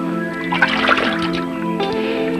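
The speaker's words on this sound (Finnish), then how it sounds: "Kilpailijat kantavat sangoilla omasta paljusta vettä tähän ränniin, josta vesi valuu toisen joukkueen paljuun." Water sloshes and pours steadily down a chute into a large tub as competitors empty buckets into it, a continuous splashing rush with a steady hum underneath and no talking.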